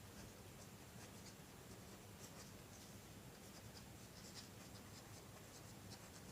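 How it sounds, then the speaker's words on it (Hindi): A pen writes on paper in a quiet, continuous scratch, with faint tapping strokes and no talk over it. "तो लिख लेते हैं"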